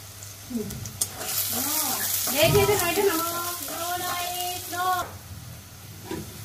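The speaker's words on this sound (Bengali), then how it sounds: "পেঁয়াজ দিলাম, তেল দিলাম, পেঁয়াজটা ভাজবো।" Onions sizzling in hot oil in a home kitchen pan, a steady hiss and crackle running beneath a voice as she talks throughout.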